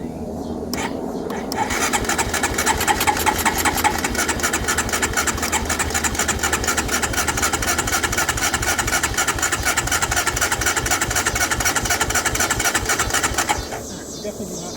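A 2008 Honda Recon ATV, abandoned for more than fifteen years, cranks and then starts, settling into a steady, close, rapidly pulsing idle for about twelve seconds before cutting off. Someone talks over the engine.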